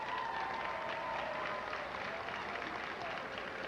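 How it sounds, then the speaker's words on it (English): Steady, fairly quiet applause from the audience at a high school Hall of Fame induction ceremony for its inaugural class. It fills the whole moment with dense, even clapping and some faint voices underneath. "I ask that you give all our inductees a round of applause."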